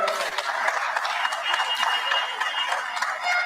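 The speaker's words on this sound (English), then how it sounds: "Give a big round of applause, ladies and gentlemen." Audience applause for Flora Duffy, Bermuda's first Olympic gold medalist, at her arrival welcome: steady, dense clapping from a crowd, sustained evenly throughout at moderate loudness.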